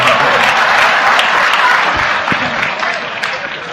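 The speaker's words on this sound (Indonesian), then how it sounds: "Tepuk tangan." An audience at a Cak Nun Sinau Bareng gathering breaks into loud, dense applause that holds strong for a few seconds before gradually thinning out.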